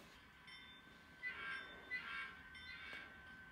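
A model railroad train backs up on a layout, a faint, steady mechanical whir with soft squeals and a couple of louder swells, no talking.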